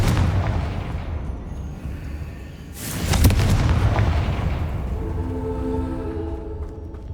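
A Confringo blasting spell in the video game Hogwarts Legacy goes off in a deep boom midway, over a steady low rumble of game ambience that continues afterwards.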